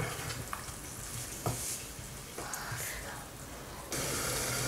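Potatoes for dum aloo cooking in a spiced gravy in a pan, a dense continuous sizzle with occasional clinks and scrapes of stirring, growing louder and brighter toward the end.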